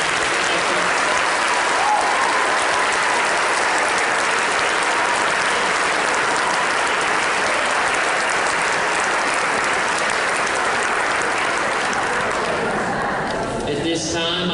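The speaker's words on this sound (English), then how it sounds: "Please give one final round of applause for all of your efforts." A large audience at a National Honor Society induction ceremony gives a long, steady round of applause, dense continuous clapping that stays loud and even before tapering at the very end.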